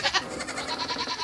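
Baby goats on a farm bleat close by, reunited with their mothers, in a run of several overlapping, wavering calls that follow one another with no pauses.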